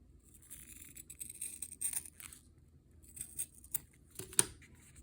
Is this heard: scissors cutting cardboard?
yes